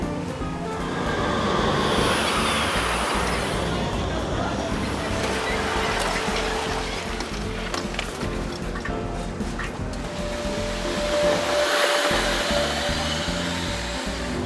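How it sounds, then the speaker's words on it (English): A tram running through Bremen gives a steady, continuous broadband rumble and rush, fairly loud and close throughout, with no clear pauses. "The trams are running frequently."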